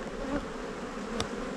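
A honeybee swarm buzzes over hive frames full of brood, giving a steady close droning hum with a single brief bee zipping past near the microphone.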